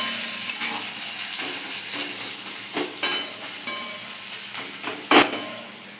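Onions stirred in hot oil, sizzling steadily with intermittent scraping strokes of a spatula against the pan and a sharp clank near the end.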